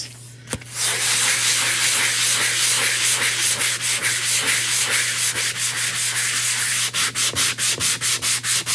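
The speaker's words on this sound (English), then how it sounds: "So we're just going to lightly sand that down." A wooden surface sanded lightly by hand before painting, with continuous close rasping that turns into rapid rhythmic back-and-forth strokes toward the end.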